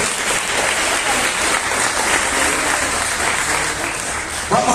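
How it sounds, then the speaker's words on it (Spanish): Congregation at a Spanish-language church service claps loudly and steadily, a dense sustained applause filling the room from start to finish with no break. "Vamos a dar un fuerte aplauso a la palabra del Señor"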